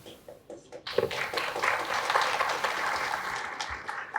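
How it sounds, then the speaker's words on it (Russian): Audience at a startup pitch event claps for a speaker, scattered claps at first swelling into steady, moderately loud applause. "аплодисменты нашему спикеру"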